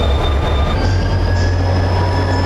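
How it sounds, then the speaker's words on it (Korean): A Mugunghwa passenger train pulls away from a station with a loud, steady rumble of wheels on rail and a faint high wheel squeal, close by and continuous, with no voices. "열차가 출발하고 이제 경의선을 따라서 수색기지에 입고하게 됩니다"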